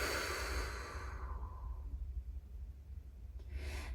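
A soft open-mouth exhale during a new moon yoga breathing practice, a quiet breathy rush that fades over a couple of seconds, followed by a faint breath at the end.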